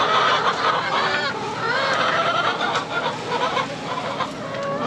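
Hens clucking and murmuring continuously while pecking at apple peelings on a farm, several birds close by with overlapping chatter and occasional louder squawks.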